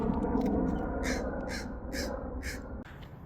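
Crows caw in a cemetery among trees on a hot summer day, a series of four or five harsh calls at a steady rhythm over a low outdoor background, with no talk.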